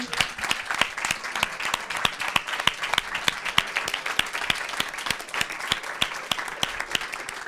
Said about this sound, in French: je veux qu'on les applaudisse, vraiment.